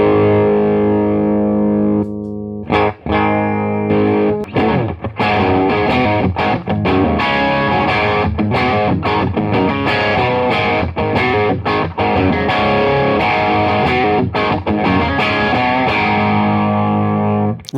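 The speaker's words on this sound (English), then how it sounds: "So this is the Canberra straight out of the box, all knobs at noon." An electric guitar plays through a Pastfx Canberra overdrive pedal with all knobs at noon. Loud, gritty rock chords and riffs are strummed and picked without a break, and no one speaks.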